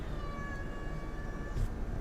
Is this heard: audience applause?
no